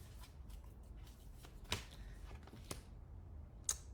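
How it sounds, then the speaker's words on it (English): Soft riffling and scattered card snaps as a deck of angel cards is shuffled close by, quiet with a few sharper clicks. "Doing a shuffle here."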